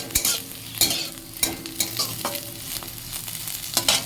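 Okra and potatoes fry in a pan as a spatula scrapes and stirs them, giving repeated sharp strokes over a continuous hissing sizzle, close and fairly loud, with no voices.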